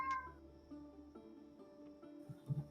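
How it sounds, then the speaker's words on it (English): A cat lets out a short, strained yowl at the start, moderately loud, then low rumbling background noise and a few soft thumps follow. "That a cat screams in the background."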